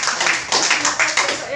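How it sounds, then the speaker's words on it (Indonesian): A small crowd claps for Bapak Ronald and Bu Ina in several loud, rhythmic bursts of applause, close and lively, with no speech over it. "Tepuk tangan dulu buat Bapak Ronald dan Bu Ina."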